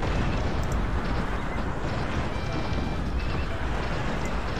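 Howitzers firing in the strategy video game Cossacks, a continuous heavy rumble of booming artillery blasts blending into a dense, loud battle roar.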